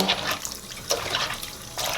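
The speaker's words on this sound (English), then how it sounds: "run the water a little bit just to get some of that soap and some of that makeup off" Tap water runs steadily at a sink while a makeup brush is rinsed of soap and makeup, giving a continuous close hiss and splash with small surges.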